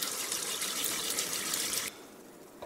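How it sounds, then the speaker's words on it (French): Several litres of water pour from a tap into a sink that was just unclogged with a Milwaukee M18 FUEL drum drain cleaner, a steady close gush that cuts off abruptly, leaving the quieter drain gurgling away alone. "On va faire remplir un bon volume d'eau de quelques litres."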